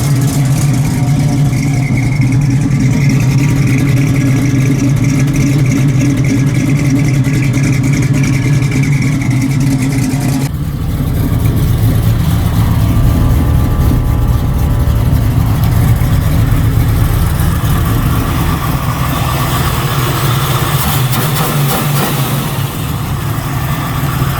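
A turbocharged Chevrolet Nova engine idles with a choppy cam lope, then revs and runs loud and close throughout with no talk.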